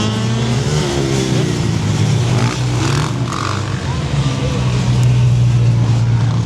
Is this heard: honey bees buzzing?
no